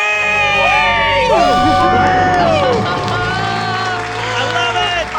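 A family screams and cheers together in celebration of paying off their debt, loud overlapping shrieks and whoops from several voices with crowd noise filling the whole stretch.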